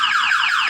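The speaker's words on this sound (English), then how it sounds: "Alarm goes off." A Chevrolet box car's alarm sweeps downward in repeated tones, loud, nearby and continuous for a brief moment.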